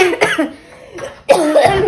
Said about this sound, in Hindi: सॉरी गाइस, खांसी बहुत आ रही है।